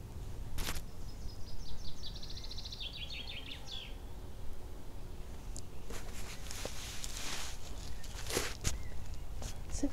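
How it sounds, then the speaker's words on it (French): Small birds sing outdoors in a faint, steady stream of high chirps and trills, with footsteps and a low background rumble throughout. "je laisse la place aux petits oiseaux. Ils chantent bien mieux que moi."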